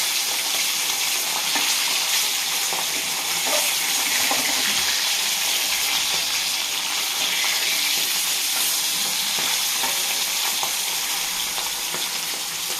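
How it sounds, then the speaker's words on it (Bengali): Fish sizzles in hot oil in a pan, a loud, continuous, bright crackling hiss that holds steady without pause. "মাছের এক পিঠ হয়ে গেছে, আমি এবারে পাল্টে দেব।"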